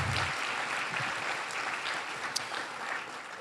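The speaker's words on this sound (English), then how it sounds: "Let's hear another round of applause." Dense applause from a large crowd, steady and sustained throughout with no pauses.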